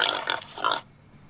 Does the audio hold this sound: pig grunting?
yes